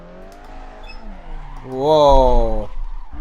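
Caterham sports car engine revving in the Assetto Corsa racing game, a close, loud rising engine note that climbs in pitch and then cuts off abruptly, with a lower idle before and after.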